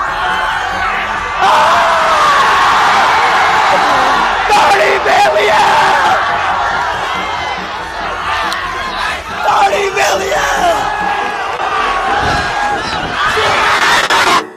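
Crowds of fans scream, yell and cheer on a street during a live celebration with cars parked nearby, a loud continuous roar of overlapping voices with whoops and shouts.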